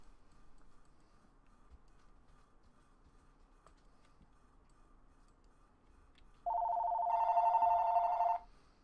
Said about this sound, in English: I got a phone call, and I'll be right back.